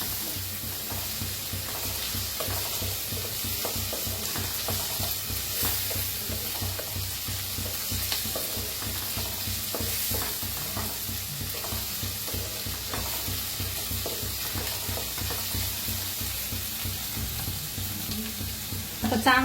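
Chopped onion and tomato fry and get stirred in a pan for an egg curry, a steady loud sizzle with frequent scraping stir strokes running throughout, no voices.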